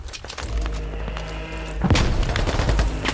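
Grenade blasts in the military shooter game Squad: several deep booms and thuds, with a heavier burst of explosions partway through, amid scattered gunfire and the rumble of battle.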